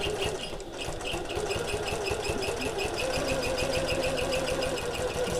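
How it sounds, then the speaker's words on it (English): Sewing machine stitching straight across a turning gap in a bag, a steady rapid mechanical whir with a continuous rhythmic hum, fairly close and even throughout. "Sewing all the way across"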